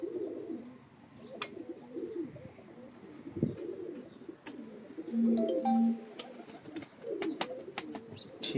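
Pigeons in a home loft coo in low, rolling, repeated calls close by, with overlapping birds, a couple of sustained hoots and light chirps and rustles between them.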